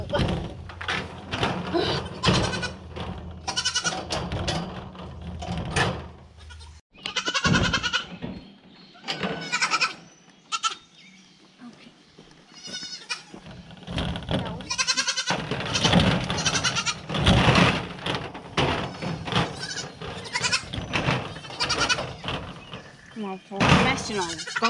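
Goats bleat repeatedly amid a person talking nearby, with occasional thumps and rustling in a busy outdoor setting, in the rain outside a barn.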